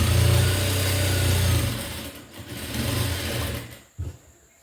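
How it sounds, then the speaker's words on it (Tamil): A sewing machine stitches a sleeve seam with a steady whirring hum that slows and fades, then picks up briefly again before stopping. "ஒரு கைடு அளவுக்கு 3 தையல் போட்டுக்கலாம்."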